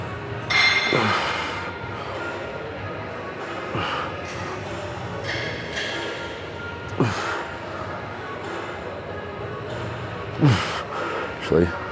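10 kilo dumbbells clink sharply in a gym several times, the metallic knocks scattered across a quiet background with faint breathing.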